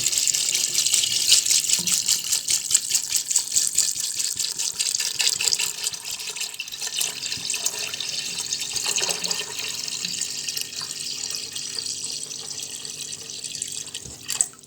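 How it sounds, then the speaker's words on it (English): A steady stream of water pours from a tap into a pressure cooker with soaked chickpeas, loud and close, running continuously without a break. "Now I'm going to add water."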